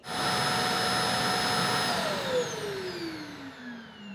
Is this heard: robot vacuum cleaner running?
yes